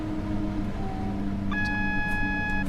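Train horn in Train Sim World 2 on a Southeastern high speed service, a steady multi-tone blast starting partway through and held to the end over the loud low rumble of the running train.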